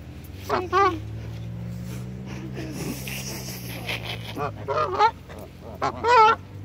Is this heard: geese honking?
yes